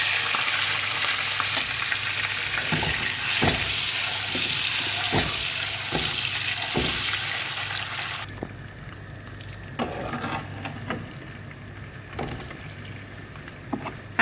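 Eggs frying in oil with a little turmeric, a steady loud sizzle with crackles and soft stirring clinks, the high hiss dropping away sharply partway through to a quieter simmering crackle.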